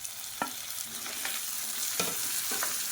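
Onion and tomato sautéing in a pan for sambar give a steady close sizzle, broken by a few sharp spoon scrapes and taps against the pan, with no talking.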